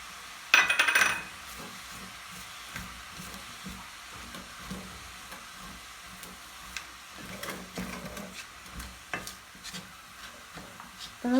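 Onions sauté with curry leaves and ginger-garlic paste in a pan, giving a continuous close sizzle broken by occasional scraping stirs.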